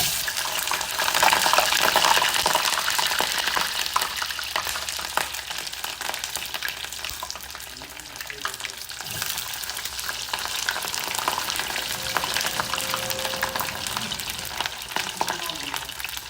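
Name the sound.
frying crab shumai dumplings in oil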